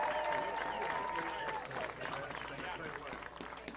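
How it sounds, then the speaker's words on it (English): Crowd applause for the 2022 homecoming court at a varsity high school football game, steady, distant clapping and cheering filling the stadium, with a public-address voice audible over it at the start. "Please give a round of applause for your 2022 homecoming court."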